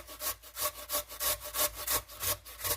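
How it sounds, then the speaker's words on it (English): Peeled potatoes are grated on a hand grater, a rhythmic rasping scrape with quick even strokes about four per second, close and steady. "we're just gonna grate these potatoes right in here"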